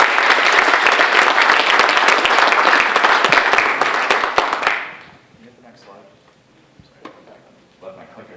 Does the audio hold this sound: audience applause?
yes